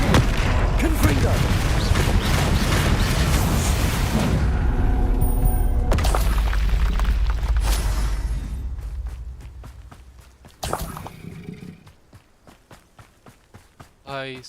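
Spell blasts from the Confringo fire curse in Hogwarts Legacy burst loudly over a dense, roaring battle din for the first eight seconds, then fade into scattered sharp hits and quieter thuds.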